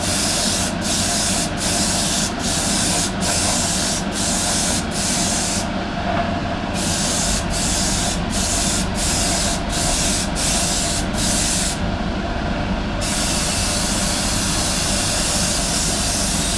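An airbrush with a larger than normal nozzle sprays paint onto a 1/35 Meng Terminator model kit, a loud, steady, close hiss broken by brief pauses.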